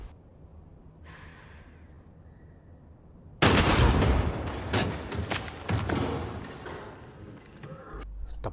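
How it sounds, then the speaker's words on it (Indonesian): A film scene erupts into a loud burst of gunfire after a quiet, tense stretch, with several sharp shots and heavy thumps followed by a fading, rumbling tail. "Choi berhasil menembak Okju"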